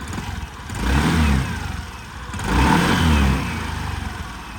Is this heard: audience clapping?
no